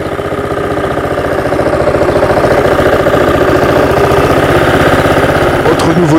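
A Honda HRX 537 walk-behind lawn mower engine runs at a steady, moderately quiet idle with its blade not turning. Someone talks over the even, close-up drone.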